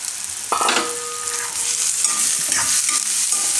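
Green chickpeas tossed into a pan of softened onions, sizzling and frying steadily with a constant hiss and occasional stirring scrapes and clinks, close and loud with no voices.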